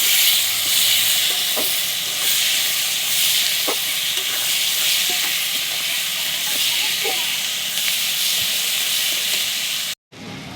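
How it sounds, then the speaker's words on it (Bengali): Onions frying in hot oil for a chicken and potato dish, a loud continuous sizzling hiss with occasional pops and clinks, ending in a brief cut near the end. "তেলে দিয়ে দেবো পেঁয়াজ এটাকে লাল করবো একটু"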